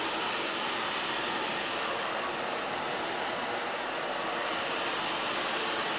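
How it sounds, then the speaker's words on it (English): A hair dryer blows steadily and loudly throughout while a pixie haircut is styled, its broad airy roar holding constant without a break. "Then we're gonna take the blow dryer and blow the down or the back down."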